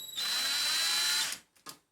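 A handheld power drill backs out a screw in one close, high whining run of about a second, winds down, then gives a short second burst.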